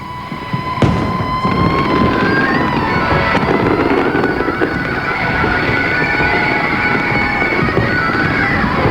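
A single sharp boom from a large 16-inch firework shell bursting over Sydney at New Year, followed by a long rumbling, crackling roar that lingers for several seconds.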